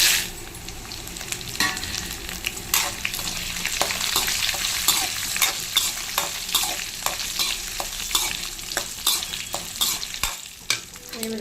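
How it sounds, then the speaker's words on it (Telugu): Dried red chillies fry in hot oil in a pan with a steady crackling sizzle, punctuated by repeated sharp scrapes and taps of a stirring utensil; no voices. "దీంట్లోనే ఎండుమిరపకాయలు వేసేస్తాను"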